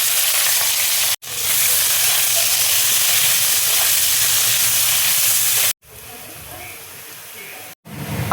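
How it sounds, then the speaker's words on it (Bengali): Chopped onion hitting hot oil already seasoned with dried red chilli, bay leaf and fenugreek, giving a loud, steady sizzle and hiss that breaks off briefly twice as the pan is stirred. "এবার দেখো পেঁয়াজ কুচি দিয়ে দিচ্ছি।"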